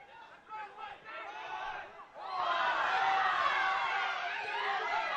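Soccer crowd at a college men's semi-final match, Whatcom versus Spokane, murmuring with scattered shouts, then erupting into a loud, sustained roar of protest when no foul is called.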